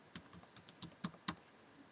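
Keystrokes on a computer keyboard while a password is entered, about a dozen distinct taps in an uneven rhythm, close and fairly quiet, with no voices.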